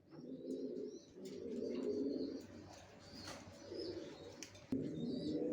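Original racer pigeons coo softly in repeated low, throaty phrases, fairly quiet and close, with a few faint chirps and a brief sharp knock near the end.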